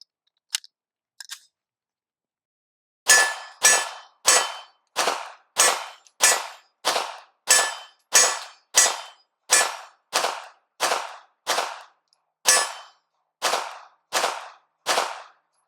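A Canik TP9SF pistol fires during a 1,000 round endurance test: two faint early shots, then a steady string of about twenty loud, sharp reports at an even, rapid pace, with no talking.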